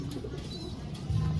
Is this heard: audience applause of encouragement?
no